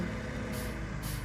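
A truck's air brake being set in Farming Simulator 17, with two quick hissing bursts of released air over a steady low idling engine rumble, close by.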